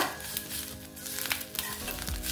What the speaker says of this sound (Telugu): కరివేపాకు బాగా క్రిస్ప్గా వేగాక